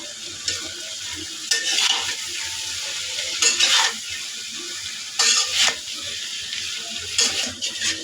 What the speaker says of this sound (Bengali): এখন আমি এতে ধুন্দুলটা ঢেলে দেব